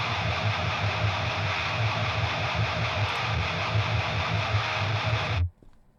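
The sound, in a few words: heavy distorted electric guitar with HM2 pedal tone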